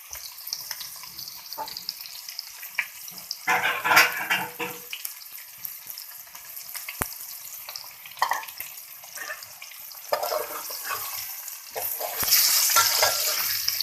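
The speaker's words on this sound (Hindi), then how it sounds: "ये देखेंगे ऑयल के अंदर इसको फ्राई होते हुए 10 सेकंड हो गए हैं" Spices fry in hot oil for masala potatoes, a close crackling sizzle with scraping stirring noises and splashy bursts that swell and fade over the stretch.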